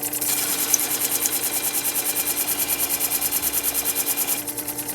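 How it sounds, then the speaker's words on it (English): A metal tool blade slid back and forth bevel side up on a sharpening stone, giving a steady series of close, rhythmic rasping strokes that continue evenly with no voices. "It's actually sanding the metal away on top, underneath."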